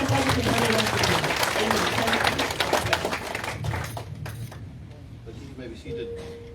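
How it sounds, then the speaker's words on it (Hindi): A church congregation claps loudly to thank God during a Hindi-language worship service, dense sustained applause that thins and fades over the last seconds as a voice speaks over it. "जोरदार ताली से प्रभु को धन्यवाद देते हैं।"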